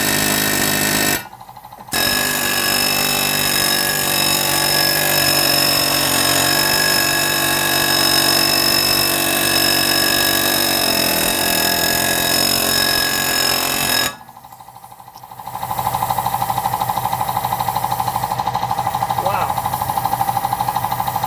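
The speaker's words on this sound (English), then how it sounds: "Sorry about the noise of the compressor" A loud, steady mechanical drone of a running air compressor in a garage during work on a 2018 Ford EcoSport's stuck rear rotors, continuous apart from two brief dips, with voices faintly underneath.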